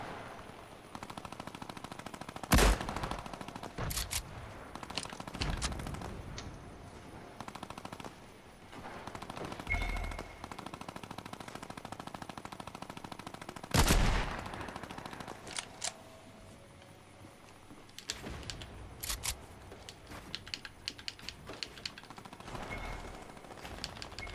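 Rapid gunfire from dual pistols in a battle royale video game event, loud bursts and single shots recurring throughout amid game effects, with no talking.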